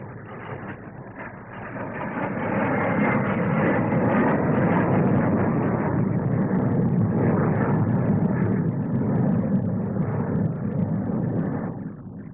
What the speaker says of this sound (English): Another of the Avro Vulcans, the world's first delta-wing four-jet bombers, takes off to show its maneuverability and its general lines.